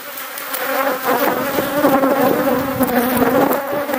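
Dense, loud buzzing of many honeybees shaken from a hive frame close by, a continuous agitated drone with no voices.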